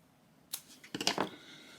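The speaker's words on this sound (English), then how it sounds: "Just pull it through and then cut your yarn." Scissors snip through crochet yarn, a few quick, close, crisp cuts in otherwise quiet surroundings.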